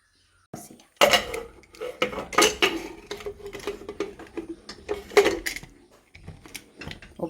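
Metal clatters and clanks as a lid goes onto a pot of mutton soup in a kitchen, a string of close, loud knocks and scrapes.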